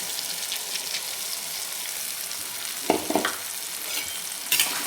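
Soaked, washed masoor lentils stirred into cooked-down tomatoes in a pan, a soft wet sizzle with a few sharp scraping knocks of the spoon, close by with no speech.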